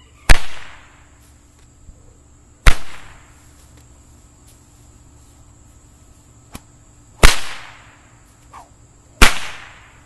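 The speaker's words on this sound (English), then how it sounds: "this will give you an idea of what a poly cracker is capable of sounding like" Multicolored snakewhip fitted with a broken-in, frazzled poly cracker, giving four loud sharp cracks at uneven intervals, each with a short trailing whoosh, plus a couple of fainter snaps between, no talk.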